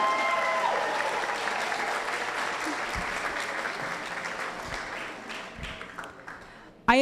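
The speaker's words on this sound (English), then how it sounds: "Let's have another round of applause for our Egan Award winners." A luncheon audience at a reunion gives sustained applause for award winners, a dense, steady wash of clapping from a crowd that slowly tapers, with a faint voice beneath.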